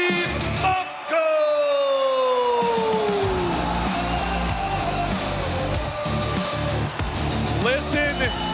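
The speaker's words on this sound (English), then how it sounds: "Listen to this crowd lose their mind for Steve Mocco" A wrestling crowd roars wildly for Steve Mocco, loud and continuous yelling and whooping throughout, with a whistle-like rising tone early on and a few louder bursts later.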